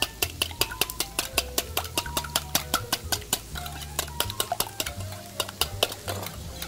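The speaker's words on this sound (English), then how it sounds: "We'll just whisk that up." Eggs whisked with salt and pepper in a bowl, giving a quick, steady run of sharp clicks and taps from the whisk, close and fairly loud, with no talking.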